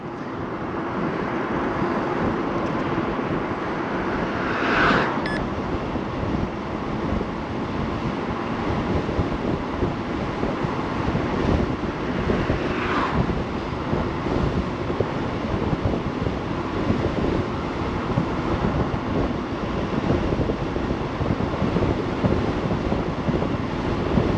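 Constant, heavy wind buffeting roars across the microphone while riding an Eahora Emars M1P electric motorcycle on a very windy day, with a couple of brief whooshing swells and no talking.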